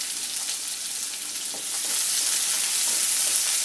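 Chopped onions fry in mustard oil with dried red chilli and cumin, a steady close sizzle and hiss that swells slightly partway through, with no talk.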